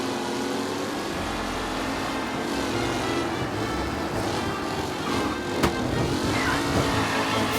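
Race cars in a tight pack during a race in the video game Mafia, with engines droning loudly and steadily throughout, pitches rising and falling as they jostle, and one brief sharp knock near the end.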